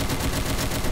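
Rapid gunfire in the Roblox shooter Arsenal, a fast continuous burst of close, loud shots lasting about a second.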